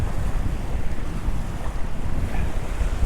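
Ocean surf of 1 to 2 foot waves at the beach at Yarborough Pass, a steady washing roar mixed with heavy wind buffeting the microphone, continuous and close, with no voices.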